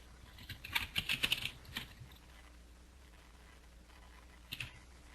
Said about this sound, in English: let's see if I'm typing in the right place.